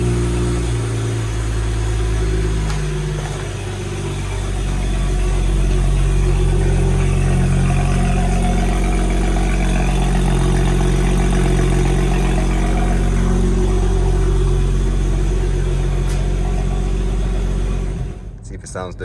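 A BMW 335i with an N55 engine and front-mount intercooler runs loud and close, a deep steady drone with slight rises in pitch that cuts off near the end while voices talk over it.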